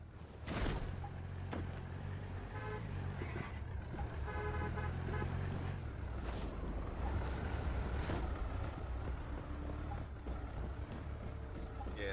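A car drives in the Once Human video game, its engine a steady low rumble with scattered mechanical clunks and tones, faint voices talking over it.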